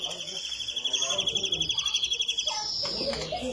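Rapid, repetitive twittering and buzzy trills from a greenfinch, fairly close and continuous, with faint background noise and a brief break near the end.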